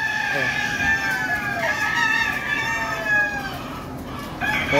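Several chickens cluck and a rooster crows amid busy farmyard noise, with a person talking faintly underneath.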